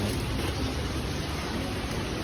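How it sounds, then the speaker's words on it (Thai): Heavy rain pours down over a fresh market during a storm, a dense, steady hiss that fills the whole clip loudly and evenly with no pauses. "ฝนตกเดินยาก"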